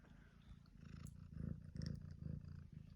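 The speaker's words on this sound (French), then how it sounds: "Et nous avons le chat qui est dessus." A cat resting on top of a cassette/VHS player purrs close up, a soft low rhythmic rumble pulsing with each breath, quiet and alone in a room.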